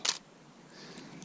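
A single faint camera shutter click on a slow shutter setting, heard once at the start on a mountain hike trail near Diamond Lake, followed by quiet outdoor ambience.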